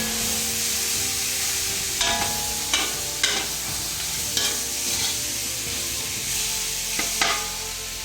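Lechon roast pork added to a sizzling pot for sinigang, a constant hissing fry with several stirring clatters and scrapes spaced through it.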